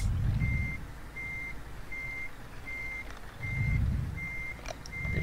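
Reversing truck in the Euro Truck Simulator 2 video game: a steady series of evenly spaced backup beeps over a low rumbling diesel engine that swells twice, no talking.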